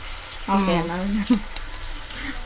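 Ginger garlic paste sizzles in hot oil in a home kitchen while a tomato and greens curry is being made. A steady, hissing frying sound runs under a woman's speech.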